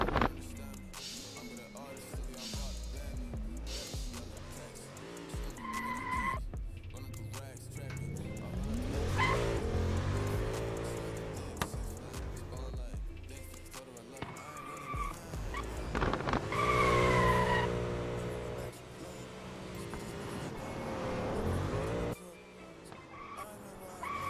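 A BMW E30 on a drift course: the engine revs up and down with rising and falling pitch, tires squeal loudly through long slides, and an announcer's voice talks over parts of the run.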